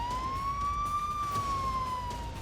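An air raid siren wails over Kyiv in the early morning, one steady rising-and-falling tone heard from a distance and continuing without a break, with no voices.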